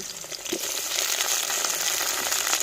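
Tomato, drumstick, eggplant and potato pieces sauté in hot oil, giving a loud, continuous crackling sizzle, with a short scrape of stirring near the start.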